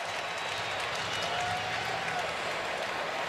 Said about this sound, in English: Now you hear more of the crowd reacting.